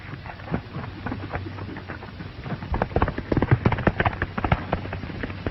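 Several horses gallop in a steady, drumming rhythm of hoofbeats, close and loud, growing heavier toward the end, from a 1936 western film.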